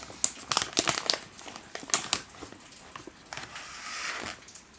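Plastic packaging of Yumi classic falafel crinkles and crackles in close, irregular bursts as one falafel is pulled out, quiet between the rustles.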